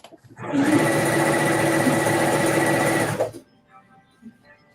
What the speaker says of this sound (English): I add top stitching right here all around